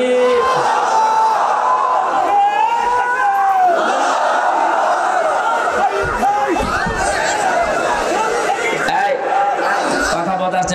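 A large crowd at an Islamic religious sermon gathering shouts takbir together in a loud, sustained collective chant and roar filling the whole stretch.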